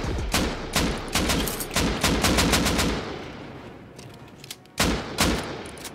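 Rapid gunfire bursts rattle during a video game raid on an armored base, loud automatic volleys repeating in clusters with brief pauses between.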